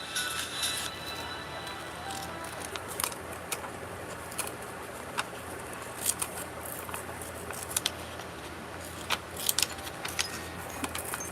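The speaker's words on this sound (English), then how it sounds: "I'm using my little scissors to cut them out" Small scissors snip out a paper petal template, giving a close, continuous run of light crisp cuts and rustles with irregular sharper snips scattered throughout, with no voices.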